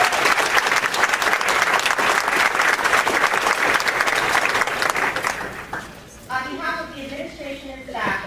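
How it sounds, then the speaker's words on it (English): Audience at a high school honors awards ceremony applauds loudly and steadily for about six seconds, then the clapping fades as a speaker's voice takes over. "Please give them a round of applause."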